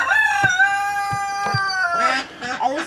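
A rooster crows with a long, wavering call among chickens kept in a backyard coop, alongside a few short clucks and thumps nearby and more crowing toward the end, while people talk.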